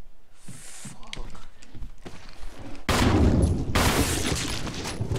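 Gunshots fired at zombies in the video game Resident Evil 1, a loud burst of blasts in the second half over game ambience and rumbling, with scattered thuds before it.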